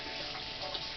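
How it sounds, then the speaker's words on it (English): A kitchen faucet runs as hands are rinsed of garlic powder while cooking stuffed chicken breasts, giving a steady, close, even rush of water for about a second. "Rinse my hands off."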